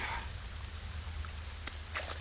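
Steady rain falls at night, giving a soft, continuous hiss with scattered faint drips and no voices.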